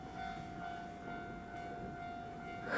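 A passenger train rushes through a station at around 100 km/h, a steady rumbling roar with a sustained tonal whine that swells louder in the final moments, heard without any talking.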